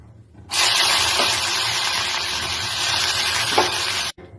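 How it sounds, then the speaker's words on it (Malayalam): Fenugreek sprout mix tipped into a pan of popped mustard seeds with the gas just switched off, giving a loud, steady hiss and sizzle that starts abruptly, holds for about three and a half seconds, then cuts off. "ഇതിലേക്ക് ഇനി ഉലുവ മിക്സ് ചെയ്തത് ചേർക്കാം."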